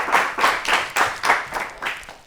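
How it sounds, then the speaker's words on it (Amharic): An audience claps for a child quiz contestant named Nardos: about eight rhythmic, evenly spaced bursts of applause, moderately close, with no talking. "ለናርዶስም አጨብጭቡላት በደንብ።"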